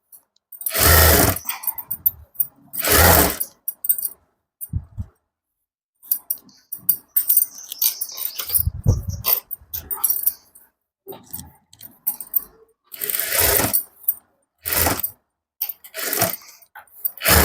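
A sewing machine stitches a blouse seam during tailoring, running in loud, short mechanical bursts separated by pauses, with quieter handling clatter between runs and no talking.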